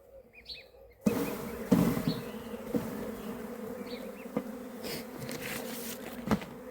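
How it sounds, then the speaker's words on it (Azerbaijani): Honeybees are shaken off a brood frame from a strong colony, and a dense, continuous buzzing swarm fills the air close by after a sudden thump, with scattered sharp knocks and rustles throughout. "bu yumurtalı çərçivənin üzərində olan arıları silkələyirik bura"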